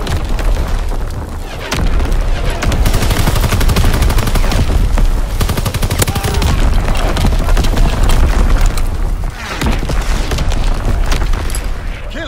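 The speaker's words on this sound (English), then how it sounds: "Incoming enemy artillery." Incoming enemy artillery in a war video game: dense, loud rapid booms and gunfire pound almost without pause, with heavy low-end blasts and brief dips between barrages.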